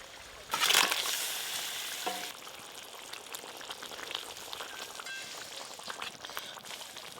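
Fish curry gravy for a grass carp tel jhal bubbling in a pot, soft steady simmering crackle after a brief louder clatter at the start, fairly quiet throughout.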